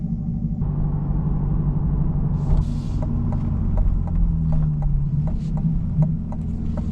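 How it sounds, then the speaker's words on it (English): Chevrolet Corvette engine cold start in the early morning, a deep loud rumbling idle with a throbbing low drone and faint ticking pulses, steady and close. "I really don't mean to wake up the entire neighborhood with a beautiful sounding cold start."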